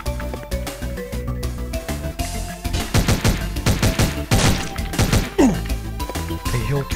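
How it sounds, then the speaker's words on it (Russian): An enemy firing several shots at a time in the action video game Omega Strike, rapid bursts of sharp blasts and impacts layered over game music, fairly loud and clustered through the middle. "он пуляет по несколько выстрелов."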